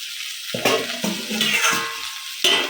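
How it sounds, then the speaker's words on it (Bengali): Cauliflower fries and sizzles in a pan while a utensil stirs it, giving a steady crackle with sharp scraping knocks at intervals, close and moderately loud, with no talk. "বন্ধুরা আমার ভাজা হয়েই এসছে"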